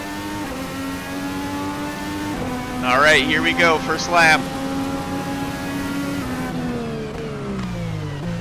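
A race car engine in a racing sim game, on the 1966 Le Mans layout, drones steadily, then revs sharply through quick rising and falling pitches as it moves up through the gears before settling back, while someone talks over it.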